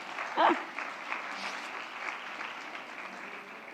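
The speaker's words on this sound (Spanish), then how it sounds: "Se merece un aplauso." Applause for a participant's answer during an online talk, faint and distant clapping spread across the clip with a brief louder voice near the start, thin and somewhat muffled.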